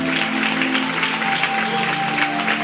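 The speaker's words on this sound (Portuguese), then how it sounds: "E vamos aplaudir o Senhor Jesus por cada vida que está chegando." Church congregation applauding together, a steady crowded patter of clapping hands that fills the room, with sustained musical tones humming underneath throughout.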